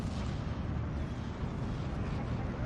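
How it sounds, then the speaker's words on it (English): Continuous artillery fire in the Steel Division 2 battle at Orsha, a dense rolling roar of distant blasts with no gaps, heavy low rumble throughout. "They might die from the artillery."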